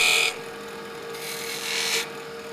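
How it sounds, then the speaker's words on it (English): A 3/8 inch spindle gouge cuts a shallow dovetail into wood spinning on a lathe, giving two bright, hissing scrapes, the first short and the second longer, over a steady low machine hum. "I'm using a 3/8 inch spindle gouge, and the dovetail doesn't need to be very deep."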